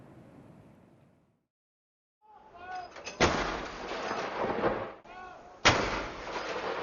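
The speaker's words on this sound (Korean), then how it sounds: "엘리자베스 2세 여왕을 추모하는 예포가 여왕 나이만큼 96발 울려 퍼집니다" An artillery gun salute of 96 rounds is fired in London to honour Queen Elizabeth II after her death. Two heavy booms with rolling echoes ring out outdoors over wind and crowd ambience.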